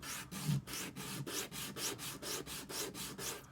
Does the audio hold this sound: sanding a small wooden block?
yes